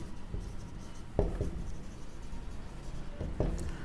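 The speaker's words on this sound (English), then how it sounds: "So we will write for critical points" A pen writes a derivatives equation on paper. Soft, close scratching strokes run continuously, with a few firmer taps. No one speaks.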